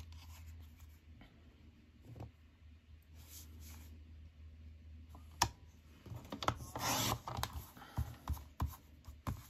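Card paper being trimmed down a quarter inch for a handmade Mother's Day card: quiet, soft scraping and clicking strokes that grow busier and louder toward the end.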